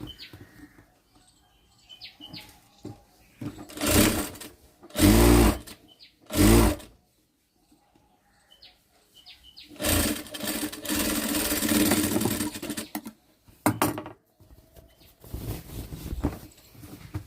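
A sewing machine stitching a churidar pant in short bursts, several quick runs of rapid needle clatter separated by pauses, then a longer steady run, close and fairly loud.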